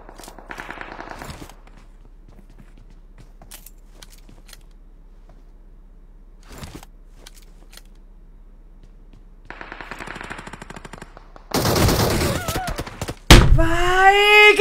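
Gunfire in a video game: a few sparse clicks and thuds over near-silence, then a loud, dense burst of automatic fire near the end, followed by another sharp blast.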